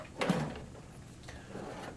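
A drawer in a truck toolbox is shoved shut, giving a single sharp knock and scrape near the start, then a quieter rattle about a second later, close and alone.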